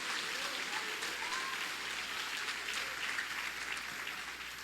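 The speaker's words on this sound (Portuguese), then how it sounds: "Você pode aplaudir o nome do Senhor Jesus Cristo?" Church congregation applauding the name of Jesus Christ during a sermon, a soft, distant, hissing wash of many hands clapping, steady and even with no talk over it.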